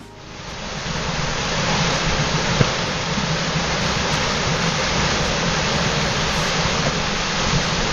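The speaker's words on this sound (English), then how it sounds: "the water's going down that hole there." Steady, loud rush of water pouring and splashing continuously, a broad roaring wash with no talk over it.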